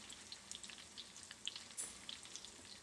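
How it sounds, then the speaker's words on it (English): Butter and light olive oil frying in a pan, a faint, soft crackle of fine bubbling and scattered tiny pops, steady and quiet with no voices. "how nice it simmers and the smell from the butter, it makes a difference"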